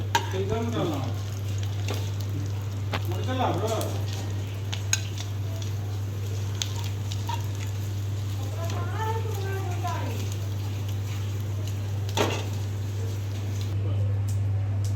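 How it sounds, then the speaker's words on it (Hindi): Mutton pieces frying in a pan of hot oil, a constant close sizzle under occasional scraping and utensil clinks, with people talking over it and a steady low electrical hum throughout. "ये मटन फ्राई बहुत ही जल्दी बना।"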